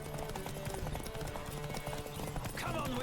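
Horse hooves clip-clopping at a fast, steady gallop during a horse race in the video game Witcher 3, close and continuous, with a brief whinny near the end and talk mixed in over the hoofbeats.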